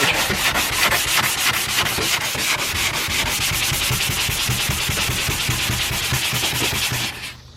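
Steady rhythmic scraping of a sanding sponge rubbing back and forth across a rusty car rocker panel, close and continuous, stopping near the end.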